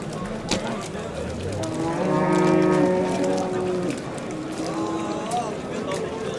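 Cows brought from Russia at a livestock market in Özgön, with one long, loud, drawn-out moo rising in the middle and a shorter one later, set among crowd noise and people talking nearby.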